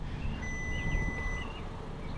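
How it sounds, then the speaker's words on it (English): A single steady electronic door-open warning beep sounds for about a second over a low engine rumble inside a running 2025 VW Taos. "the car will continuously beep at you if you open the door while the car is running"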